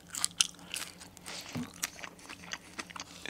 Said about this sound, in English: Oh yes, and it's actually really crunchy.